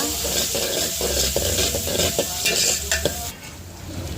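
Ginger-garlic paste fries in a pan with a continuous sizzle, while a spoon scrapes and stirs through it in irregular strokes, close and fairly loud.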